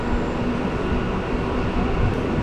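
A MEMU passenger train running from Tambaram to Villupuram near Mundiyampakkam, heard as a loud, steady rumble and rattle of wheels and carriages from on board, continuous throughout.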